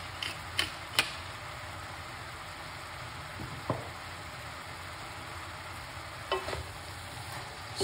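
Food for a meat-free dish stirred in a frying pan, seasoned with salt and black pepper, giving a soft, steady sizzle with a few sharp utensil clicks against the pan, heard alone.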